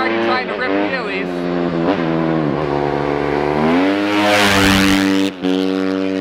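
A motorcycle ridden for street wheelies revs hard and close by, the engine note rising and falling in strong surges before cutting off briefly, with a voice talking over it.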